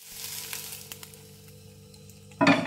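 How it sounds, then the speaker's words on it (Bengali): Egg bhurji being stirred into a masoor dal tarka in a pan, a steady close sizzle with light stirring that swells into a louder, brighter burst of frying near the end. "এবার ভালো করে নাড়াচাড়া করে 2 মিনিট ওয়েট করব"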